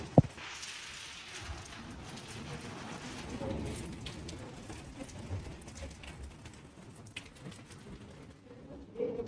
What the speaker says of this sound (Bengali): আস্তে আস্তে নাকি বৃষ্টির বেগ আরো বাড়বে আরো জোরে হবে